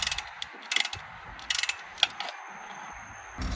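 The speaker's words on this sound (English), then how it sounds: "So ratchet it back, but monitor the brake fluid" A ratchet tool pushes back a front brake caliper piston on a BMW F07 530d GT, giving quiet, close, irregular clusters of clicking pawl ticks with short pauses between strokes.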